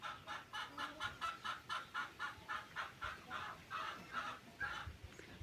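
A broody hen clucks in a steady, rhythmic series of short, evenly spaced calls, close and fairly quiet, with no talking.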